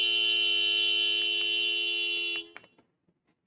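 A steady, loud, tonal vehicle horn blares continuously for over two seconds, then cuts off, followed by a few faint clicks and near silence.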